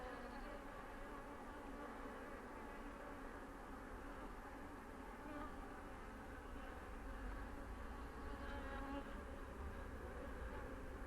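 Honeybees lift off a hive frame during an inspection, making a steady, dense buzzing drone throughout that stays close and continuous with no speech.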